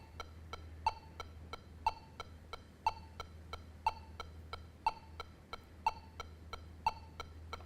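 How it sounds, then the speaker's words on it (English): A metronome set to 60 beats per minute with a triplet subdivision ticks steadily, a louder accented click once each second with two softer clicks between, over a low constant hum. "I'm going to set my metronome to 60 beats per minute, and I'm going to put triplets in interval."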